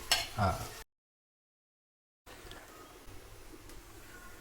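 Onion and coconut roast in a pan, first with a louder burst of stirring, then a gap of silence, then a soft, steady low sizzle with faint scraping.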